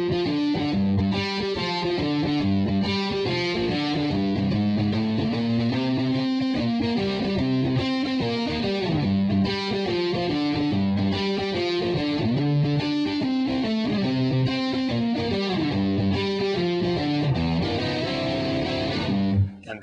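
Distorted electric guitar plays a blues riff in G with a turnaround, a continuous chugging pattern of low notes and chord stabs at a steady groove, loud, close and alone.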